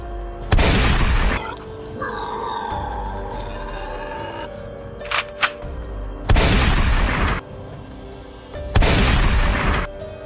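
Three loud, booming .30-06 Springfield rifle shots ring out a few seconds apart during a wild boar hunt in farm fields, with a sustained whistling, wavering tone and a couple of sharp pops between the first and second blasts.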